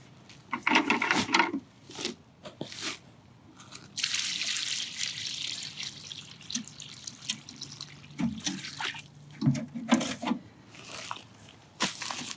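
Water from a bucket splashes and trickles onto soil around a freshly transplanted bare-root tree, coming in uneven bursts with quiet pauses between pours.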